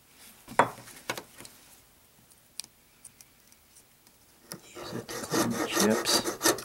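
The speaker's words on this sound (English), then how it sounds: "I take my razor knife. Start to cut this out a little bit at a time." A razor knife shaves at a wooden crochet hook, close and dry, with scattered scraping clicks that build into a denser run of rasping cuts near the end.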